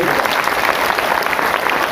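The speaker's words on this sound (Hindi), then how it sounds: "तो ऐसे जगदीश सिंह जी को मैं याद करके जोरदार ताली जगदीश सिंह जी की।" Dense, steady applause fills an association gathering hall, loud and close, with many hands clapping continuously and no break.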